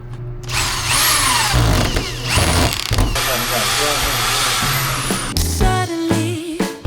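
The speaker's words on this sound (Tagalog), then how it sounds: "Power drill." A power drill whines in bursts during work on an old bus being restored, loud and close, its pitch rising and falling as it spins up and down, with a voice and background music mixed in.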